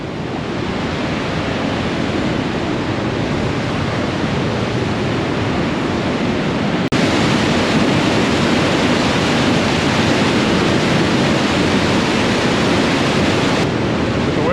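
Waterfall in Colorado near Ouray gushing in a dense, continuous roar of rushing water, loud and steady throughout with no pauses.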